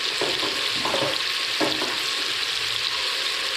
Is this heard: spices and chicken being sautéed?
yes